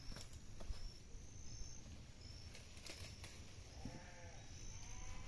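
Sheep bleat faintly in a rural yard where grass is being cleared from their pen, a few wavering calls late in the clip over a steady outdoor hiss with sharp clicks.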